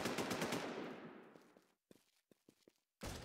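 Gunfire in a video game: a rapid burst of loud automatic shots fades out, followed by a few scattered single pops and a final loud burst.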